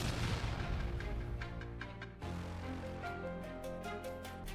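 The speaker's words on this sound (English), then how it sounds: "with several air-launched munitions, the Russian position was struck" Air-launched munitions strike a Russian position in a series of heavy, rumbling blasts and cracking bursts that roll into one another, distant and muffled, with no voices.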